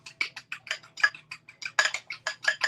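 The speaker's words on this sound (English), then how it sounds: "I gotta whisk my egg right now" A whisk beats an egg for a waffle batter in rapid, uneven clicking strokes against the bowl, close and fairly loud, each stroke a bright tick with brief gaps.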